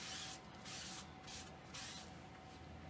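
A spray bottle mists cleaner onto a dry-erase board in several quick, faint hissing bursts separated by short pauses, with no talking.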